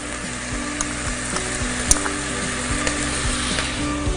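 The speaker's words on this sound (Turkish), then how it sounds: "Çok az baharatlarımı kavuruyorum." Rice roasting in a pan with turmeric and cumin, a continuous close sizzle with faint scraping and occasional small ticks, steady throughout and without speech.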